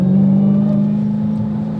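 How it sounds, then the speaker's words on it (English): A 2022 Dodge Challenger SRT Hellcat exhaust rumbles with a deep, loud, steady droning note from close by, easing slightly as the revs settle. "The exhaust note, you're going to hear it all the time, as soon as you hit about 1500 RPMs"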